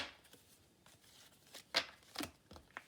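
Tarot cards shuffled by hand for a new spread, giving soft close riffling and a few sharper card slaps in a quiet room, with no talking.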